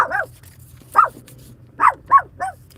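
A dog barks out front of a house, five sharp, close barks spaced unevenly over low background hum, with no talking.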